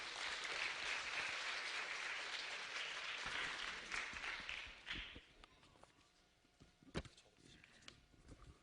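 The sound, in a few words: audience applause welcoming the committee chairman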